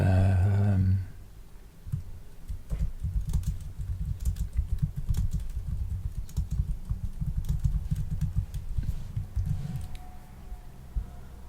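Someone types a short follow-up email on a computer keyboard, a quick run of light clicking keystrokes heard up close and alone, after a brief louder burst of sound at the start.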